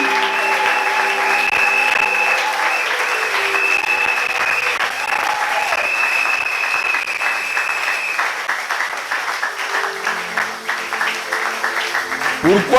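A church congregation applauding and cheering together, a dense sustained wash of clapping with voices mixed in, steady and loud throughout before thinning slightly toward the end.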